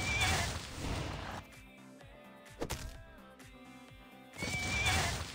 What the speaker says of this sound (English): That horse.